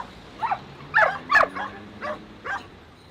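A pack of dogs roaming across Bucharest gives about six short, sharp barks and yips, spaced irregularly over a few seconds, at moderate distance against a quiet street background.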